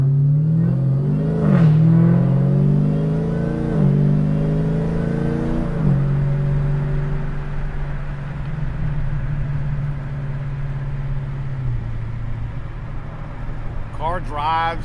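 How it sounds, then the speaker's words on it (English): A 2021 Dodge Challenger Hellcat Redeye Widebody with a 4.5 Whipple supercharger, tuned to 1300 hp, pulls hard under boost, its engine note rising in steady sweeps through the gears, loud and close throughout. "Car drives like a stock Challenger until you obviously hit boost."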